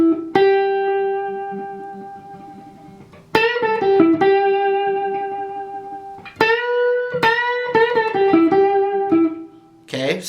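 Blues electric guitar lick, played as sustained bent and vibrato single notes with pauses between phrases, close and clear with no talking.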